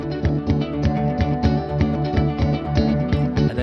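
Guitar played percussively so its rhythm stands in for drums, giving steady muted thumps and strummed hits in a tight repeating pattern alongside sustained harmonic tones, close and fairly loud, with no talking.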